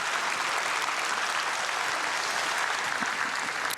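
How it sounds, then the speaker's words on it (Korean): A church congregation claps at a dawn prayer service, a dense, even wash of applause sustained across the whole stretch at moderate loudness. "귀한 은혜를 주신 우리 이상희 목사님께 감사의 박수 드리겠습니다."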